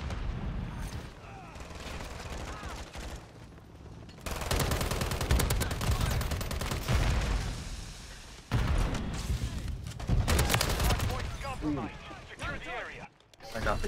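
Call of Duty: Modern Warfare match with dense rapid gunfire bursts and blasts that cut in and out, loud and continuous, with a player's voice talking over part of it.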